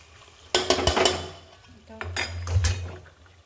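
Egg biryani masala is mixed in a pan with a metal spoon, producing two bursts of close, loud scraping and clinking against the pan with a faint sizzle underneath.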